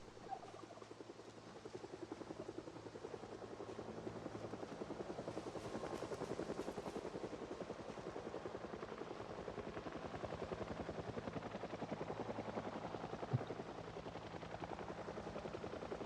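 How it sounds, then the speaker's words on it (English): A helicopter flies overhead in the Project Zomboid video game, its rotor drone sustained and fairly loud for the whole stretch, holding steady with no speech over it. "Mr. Helicopter, or are you coming back one more time?"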